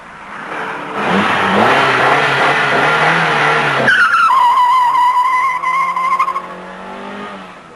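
An Alfa Romeo Alfasud ti accelerates hard, its engine note climbing loud and close, with a gear change partway through and the revs rising again afterward.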